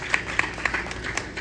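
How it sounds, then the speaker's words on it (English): An audience claps briefly for parents at a dance event, a few scattered sharp claps over a short burst of applause. "Applause to you. A big applause."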